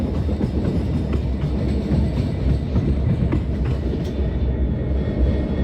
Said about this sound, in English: So the WDGD 4D, the tuned locomotive.